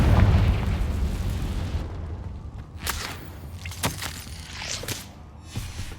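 The Confringo spell in Hogwarts Legacy sets off a deep, booming explosion that rumbles loudly at first, then scattered sharper pops and bursts crackle as it fades.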